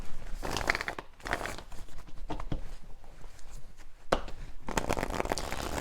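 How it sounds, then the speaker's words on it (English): Tarot cards shuffled by hand during a reading, giving bursts of papery riffling and soft slaps that come in clusters with brief pauses, close and fairly quiet, with no voice. "So when I'm shuffling here,"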